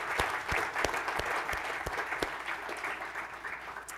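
An audience at a talk on the musicians of Terezin claps steadily for about four seconds, a dense, even wash of applause from a moderately sized room with no voices over it.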